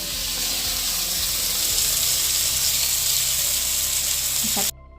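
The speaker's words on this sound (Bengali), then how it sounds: "পুরো স্টেকের প্রসেসটাকে মিডিয়াম টু লো আঁচের মধ্যে রেখে তোমাদেরকে ভাজতে হবে" Chicken steak sizzles and fries steadily in a pan over medium-low heat, a continuous crackling hiss that cuts off abruptly near the end, followed by a brief clatter.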